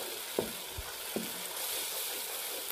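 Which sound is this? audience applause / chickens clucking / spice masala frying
spice masala frying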